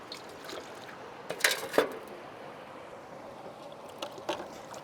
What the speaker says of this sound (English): Take a little bit of water and rinse everything out.